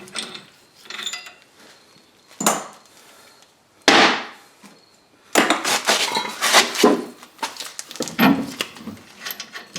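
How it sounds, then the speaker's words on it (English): Metal clanks, knocks and scrapes while the steering knuckle is worked off the front end of a 2003 Dodge Ram 4x4, with several sharp bangs and a busy stretch of rattling near the close, no talking. "Let's get this knuckle off of here and get it out of the way."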